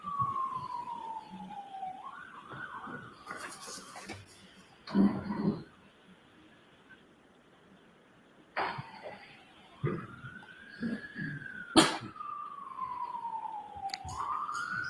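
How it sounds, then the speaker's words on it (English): Emergency vehicle siren, a wailing tone that rises and falls, fairly faint and distant, with several sharp bangs and a brief cough-like noise breaking in partway through. "Sirens."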